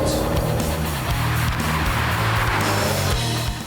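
McLaren F1 with its BMW V12 engine driving, a loud continuous engine roar with shifting pitch as it accelerates, fairly close, dropping slightly at the end.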